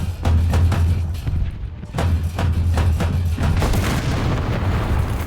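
Tank cannon fire in the War Thunder video game booms in a few deep, heavy thuds a couple of seconds apart over a low rumbling engine drone, with no voices.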